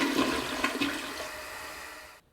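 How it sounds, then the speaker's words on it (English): A household toilet flushes loud and close, a rushing gush of water that swirls and drains away steadily before cutting off abruptly. "what happens to the water after you flush the toilet?"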